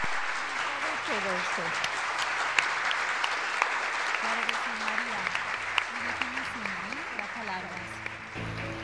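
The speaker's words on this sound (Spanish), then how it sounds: "Yo quería un gran abrazo, un aplauso por ella" Audience applause at a Spanish luxury awards gala, a steady wash of clapping from a large crowd lasting several seconds, with someone talking over it.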